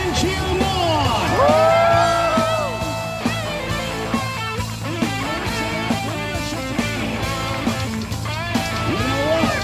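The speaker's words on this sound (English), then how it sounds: "Let's get loud and cheer him on." Crowd at a monster truck show cheers and whoops for driver Sheldon, a loud, continuous swell of shouting voices with rising yells, strongest early and holding steady throughout.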